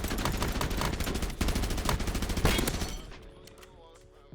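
Player gunfire in the battle royale shooter Black Ops Royale: a fast, steady string of loud close shots for about three seconds, then a sudden cutoff into quieter ambient game sound.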